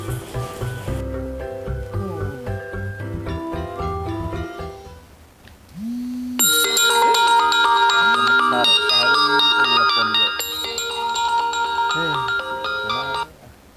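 A mobile phone rings with a melodic electronic ringtone that plays as a repeating tune, pauses briefly, then resumes louder and brighter, close by, with people speaking at points.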